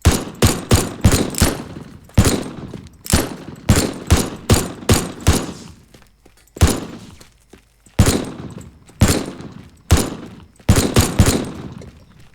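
Gunfire in the video game Teardown at a huge mansion: sharp, loud shots in quick bursts and single cracks with pauses between volleys, some followed by brief thuds.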